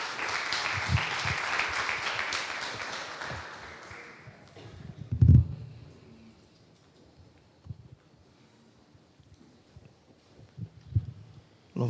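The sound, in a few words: congregation applause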